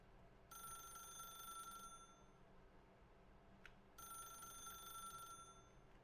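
A telephone rings twice in the game The Stanley Parable, each ring a bright bell trill lasting about one and a half seconds with a gap between, clear against a quiet background with no talk.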